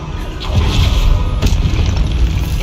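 A Confringo blasting spell bursts in Hogwarts Legacy with a loud, rumbling explosion. A deep boom swells after a brief lead-in and rolls on for about two seconds.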